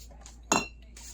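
A flip-top home-brew bottle cap gives a single sharp clink against glass, brief and close, with a few soft handling taps around it.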